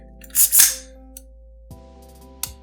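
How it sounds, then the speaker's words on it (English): An AR-15 drop-in trigger breaks and resets, giving a sharp crisp click near the start, then two smaller light clicks later, close and alone over a faint hum. "Has a nice reset that you can feel it in your finger as well as hear it."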